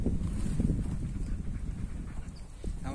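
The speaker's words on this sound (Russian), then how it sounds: "Ветер" Outdoor wind buffets a phone microphone clipped to a fence in a vegetable garden, giving a continuous low rumbling roar with gusty fluctuations, close and fairly loud, with no talk.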